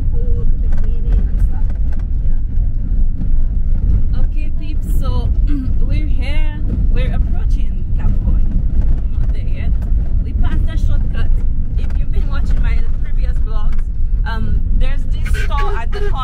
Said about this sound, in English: It's a dirt road, so if you're hearing a lot of background noise, it's the dirt road with rocks.